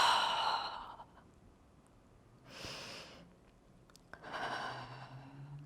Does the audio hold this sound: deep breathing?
yes